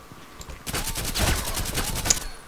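Rapid gunfire in the online shooter Contract Wars, including a Saiga shotgun, sounds as a dense burst of repeated shots that stays loud and steady for most of the clip after a quiet start.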